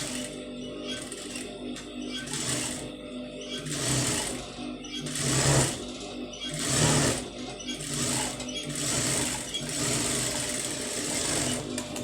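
A sewing machine stitches a patch design onto a blouse sleeve, running in steady bursts with short pauses and a continuous mechanical whir close by, no talk over it.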